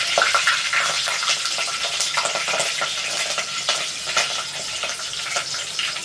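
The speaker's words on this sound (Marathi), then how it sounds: "मसाले चांगले परतले, मिरची टाका। मिरची 2 मिनिटं परतून घ्या।" Green chilies fry in hot oil alongside whole spices, giving a steady, close, loud sizzle with crackling pops and stirring scrapes throughout, no voices.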